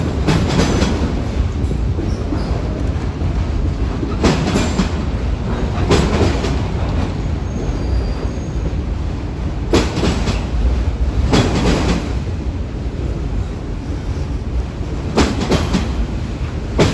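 A CSX freight train rolls steadily across a river bridge, a loud continuous rumble and rattle of wagons with repeated rhythmic clacks of wheels over rail joints.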